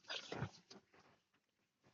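A dog growls and barks in the horror game Metal Horror Escape, a short rough burst at the start that fades into fainter rumbling.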